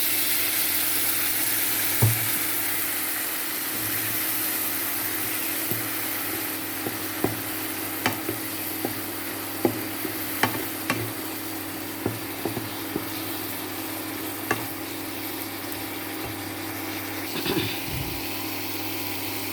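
Ivy gourd slices fry in a pan after a prepared spice paste is added, a steady even sizzle with occasional sharp clinks of a spoon against the pan and a low hum behind.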